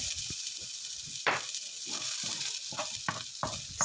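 Minced garlic and onions sauté in a pan for pork ribs adobo, giving a steady hissing sizzle broken by several sharp clinks and scrapes of stirring.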